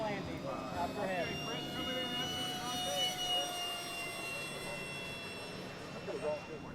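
A carbon fiber micro electric ducted fan sport jet model flies past with a steady, high-pitched whine that rises and falls, heard from a distance, with people talking over it.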